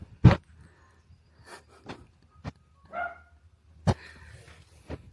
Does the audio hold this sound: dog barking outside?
yes